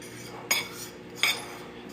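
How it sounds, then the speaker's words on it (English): A spoon stirring a seasoning mix of spices and garlic salt in a bowl, with two distinct metallic clinks against the dish over a soft background. "I'm going to give it a good stir."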